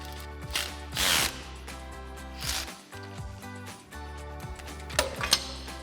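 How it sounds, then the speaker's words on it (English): A ratchet fitted with a 14mm socket tightens differential bolts on a Ford F-250, producing close, intermittent clicking bursts with short pauses between turns. "So we've got our 14mm socket on our ratchet."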